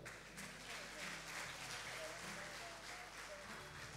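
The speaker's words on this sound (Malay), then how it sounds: "Tepukan buat mereka." An audience at a Gaza poetry evening at USIM claps for a singing group, producing soft, steady applause under a low musical hum, fairly faint and distant throughout.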